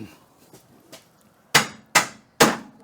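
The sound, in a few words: hammer tapping on car chassis part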